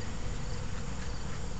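Swarm of docile Carniolan honey bees being rehived at dusk, giving a steady, dense buzzing hum that stays at an even level throughout, close by and with no voices.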